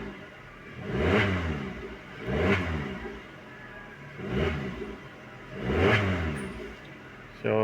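A Suzuki Swift engine with a vibration problem revs four times in a row, each rise swelling loud and close then falling back to idle, the revs evenly spaced with a brief noise at the end.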